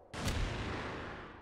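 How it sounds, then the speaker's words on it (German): A loud video game explosion in a TTT round bursts in suddenly, then rolls off into a long, fading rumble with no talk over it. "Explodierst du ja einfach."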